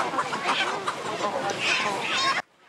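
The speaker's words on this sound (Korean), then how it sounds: "이리저리 도망치는 닭들." Chickens on a native chicken farm scattering as they are caught, with continuous loud clucking and squawking close by that cuts off abruptly at the end.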